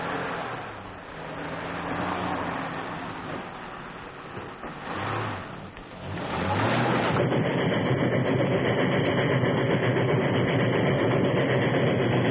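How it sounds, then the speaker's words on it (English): A train rumbles past with a heavy, continuous roar that swells and then settles into a steady, dense drone with no voices. "That's the train."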